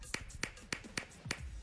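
Five crisp hand claps in steady rhythm during a body-percussion exercise, close and bright, evenly spaced with faint rustle between them.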